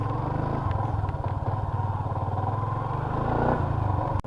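A motorcycle rides along a rural road on the way to a hot spring in Tarlac, its engine putting out a steady, close, loud putter with slight rises in pace and a sharp click near the end.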